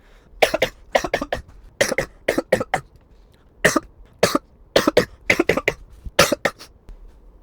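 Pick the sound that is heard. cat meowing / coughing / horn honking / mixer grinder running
coughing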